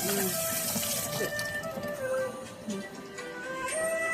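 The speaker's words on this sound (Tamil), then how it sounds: "நல்லா வாஷ் பண்ண. திருப்பி வாஷ் பண்ண." Avocado being rinsed under a running kitchen tap, a steady close splash of water with small shifting gurgles as the fruit is turned in the stream, fairly quiet and continuous.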